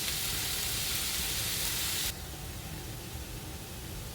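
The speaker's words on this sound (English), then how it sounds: "I just want the onions to sweat down, as they say" Onions sweating in a pan over low heat, a steady soft sizzle and hiss that is louder for the first two seconds and then drops to a quieter, even crackle.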